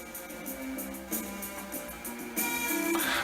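Vinyl single spinning on a small, noisy record player, its tinny music playing steadily with a brighter, louder passage near the end and no talk over it.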